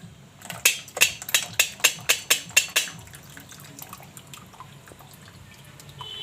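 Strained date water goes into tamarind chutney as a quick, regular run of about ten close, crisp drips or splashes, then fades to a faint, quieter trickle.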